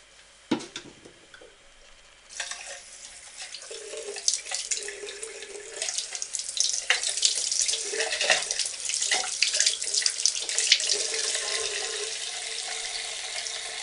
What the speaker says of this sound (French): je vais me rincer les doigts